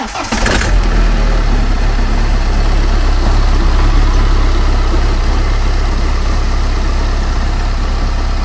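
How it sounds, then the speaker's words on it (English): A car engine, boosted by a 300-amp lithium jump starter power pack, cranks briefly and catches, then settles into a loud, steady idle that runs on close by with no talking. "So there we go, car started up"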